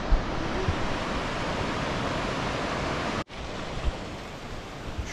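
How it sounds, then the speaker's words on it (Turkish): A small waterfall pouring down into a river on the trek to Everest Base Camp: a constant broad rush of water, close and steady, with one brief dropout. "yukarıdan hemen ufak bir şelale dökülüyor şöyle"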